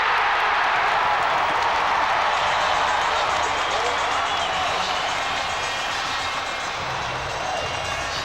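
Crowd of 8,000 at Sheffield Arena roaring and applauding a Sheffield Steelers ice hockey goal, a dense continuous wash of cheering and clapping with commentary voices faintly underneath.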